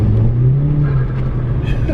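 A Mk5 Golf GTI with an induction kit and DSG automatic gearbox accelerating hard at full throttle, heard from inside as a loud, steady engine roar with a rising drone throughout.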